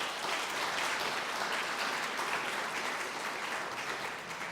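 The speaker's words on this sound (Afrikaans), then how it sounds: "Kom ons gee sommer vir hom 'n lekker hande klap soos hy vorentoe stap" A church congregation gives warm applause on Palm Sunday as a man walks to the front, a full, continuous wash of many hands clapping at an even level, fading slightly at the close.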